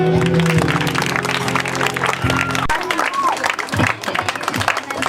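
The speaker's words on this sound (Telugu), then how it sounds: "చప్పట్లు కొట్టరా." A crowd at a Christian outreach gathering in India claps in a dense, continuous patter of applause, with voices talking over it.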